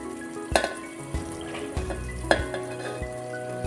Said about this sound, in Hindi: देखिए इसमें हम चावल डालेंगे